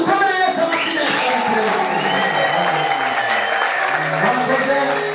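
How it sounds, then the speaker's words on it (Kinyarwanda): A church congregation breaks into loud, sustained applause with cheering voices, a dense and steady wash of clapping that fills the whole stretch without a break. "reka dukomere Yesu amashyi menshi"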